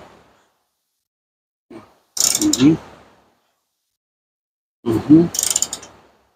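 A bolt on a Volkswagen Passat front lower control arm being tightened with a ratchet, two close bursts of rapid clicking separated by silence, preceded by a faint short click.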